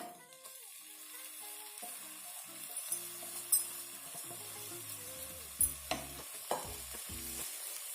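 Grated coconut sautéing in a pan for modak filling, a soft steady sizzle with scattered scraping and stirring clicks, fairly quiet and close, no voices.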